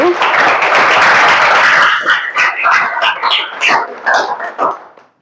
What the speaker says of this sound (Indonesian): Tepuk tangan untuk Mang Tri dulu